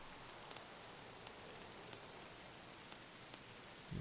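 Rain in the Escape from Tarkov video game falls as a steady, even hiss, with occasional sharper drop or patter ticks scattered across it.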